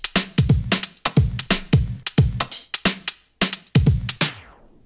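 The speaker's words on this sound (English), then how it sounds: "we just have a vinyl slowing down" A loud electronic loop of punchy drum and bass hits carries an automated vinyl slow-down effect in Ableton at its close, and the final section drags and fades away. It plays alone with no voices.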